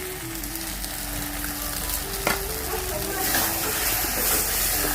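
A spice paste with turmeric fries in oil with a dense, continuous sizzle and hiss, a single sharp clink of a utensil partway through, and a faint hum underneath.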